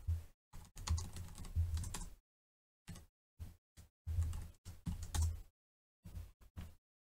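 Code typed out on a computer keyboard, fast key clatter in quick bursts broken by short pauses, close and clear with no voice over it.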